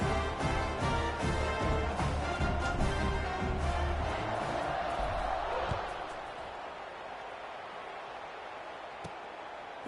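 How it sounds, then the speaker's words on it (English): A stadium crowd in the football game Madden murmurs and roars loudly at first, then fades to a quieter hum, with a commentator talking over it. "this crowd is buzzing after that last score."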